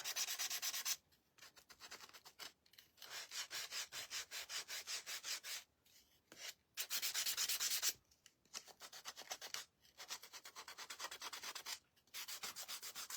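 Sanding block rubbing steadily along the edges of a craft piece in quick back-and-forth strokes, broken by short pauses, close and fairly quiet with no talking.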